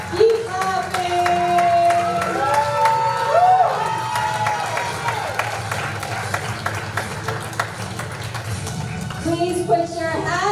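Continuous applause from a conference audience at a Lynn University summit, with crowd cheering and voices calling out on top of the clapping throughout.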